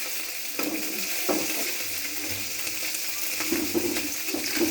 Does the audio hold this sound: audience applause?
no